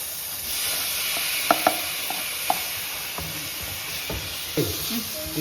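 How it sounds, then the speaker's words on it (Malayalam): Tomatoes frying in hot oil in a pan for a Kerala mushroom curry make a constant hiss, punctuated by a few light clinks and stirring taps from a utensil. "നല്ലോണം എണ്ണ തെളിഞ്ഞു വന്നിട്ടുണ്ട് നമ്മൾ ഇനിയാണ് നമ്മൾ ഇതിലേക്ക് തക്കാളി ഇടുന്നത്"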